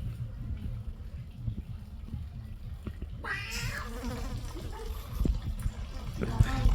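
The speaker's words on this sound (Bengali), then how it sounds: "এটা তো পুরুষ বিড়াল" A male cat lets out a single drawn-out meow midway through, over a low background rumble and faint indistinct noise.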